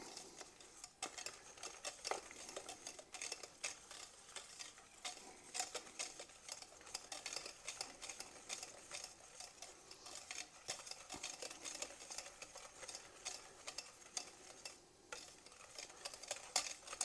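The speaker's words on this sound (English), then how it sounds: "we just want to stir this until the butter melts" Butter stirred in a pan until it melts for a Southern butterscotch pie, giving steady scraping and clinking of utensil against the pan throughout, fairly quiet and close, with no talking.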